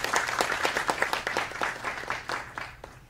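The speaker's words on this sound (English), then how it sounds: "So let's give a round of applause for everyone for help." Audience at a university faculty union event applauding, a modest scattering of distinct claps from a smallish crowd, fairly faint and irregular throughout.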